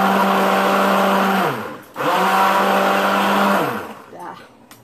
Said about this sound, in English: Blender dikit lagi, biar campur.